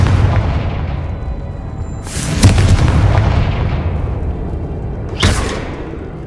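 Confringo fire spell from Hogwarts Legacy bursting in a dungeon, a loud booming blast at about two seconds with a second sharp explosion near five seconds, both over a steady rumbling game ambience.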